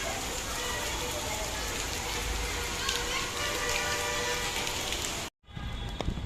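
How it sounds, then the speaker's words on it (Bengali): Heavy rain pours steadily outside, a dense, loud, continuous hiss of drops on surfaces that cuts out abruptly near the end before resuming. "বাহিরে অনেক বৃষ্টি"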